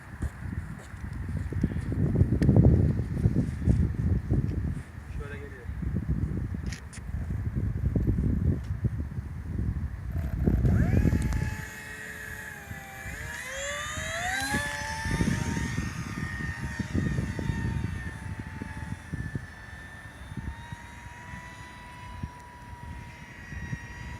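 A small propeller-driven Zagi model airplane whines overhead, its buzzing pitch rising and sweeping as it passes, over gusty wind noise.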